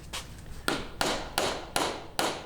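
Copper nails are driven into a wooden boat frame with a hammer: six sharp, ringing blows at an uneven, deliberate pace, close by, with quieter taps between them and no talk.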